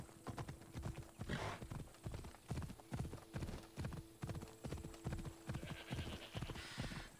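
Hooves of a horse in Assassin's Creed Odyssey beat out a regular clip-clop rhythm throughout, close and fairly loud, with a brief whinny mixed in.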